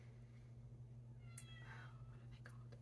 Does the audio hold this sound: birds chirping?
no